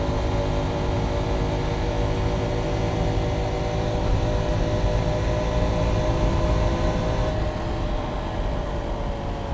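Honda Trail 125 motorcycle cruising along a Kentucky road at about 46 mph, a steady broadband engine and wind roar held at constant level throughout, with no voices.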